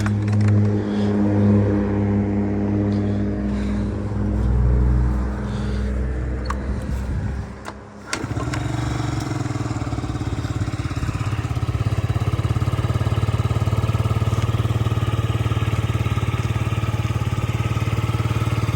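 A Yamaha Jog SA39 scooter engine idles steadily, then briefly cuts out and picks up again into a louder, even running drone that continues to the end.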